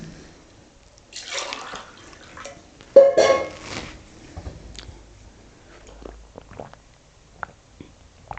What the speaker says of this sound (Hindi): थोड़ा पानी पी लेता हूँ